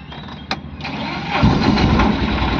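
A Tata Ace Zip XL BS3 pickup engine runs after repairs to a shorted switch and a loose EGR coupler, starting with a brief click and then settling into a steady, fairly loud near idle with a rising rumble.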